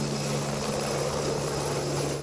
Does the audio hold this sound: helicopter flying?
yes